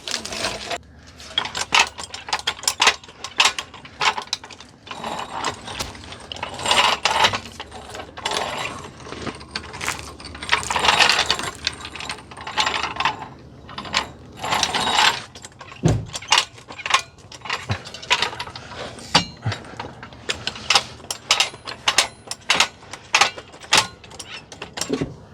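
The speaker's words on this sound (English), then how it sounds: "just gonna drop this side wheel off the axle stand that it's on" Metallic ratcheting and clanking as a wheel on a 1985 Merkur XR4Ti is lowered off an axle stand, with dense irregular clicks and clatter throughout, fairly close and moderately loud.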